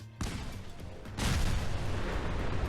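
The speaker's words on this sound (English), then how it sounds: "detonating one will typically initiate a chain reaction that clears out the entire vault" Cars packed tightly in a Fallout 4 vault blow up one after another, heavy booms setting off in a chain, with one sharp blast followed by a second, louder, sustained rumble.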